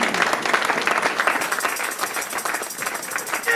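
A church congregation applauds, steady dense clapping from a crowd that holds throughout at moderate loudness.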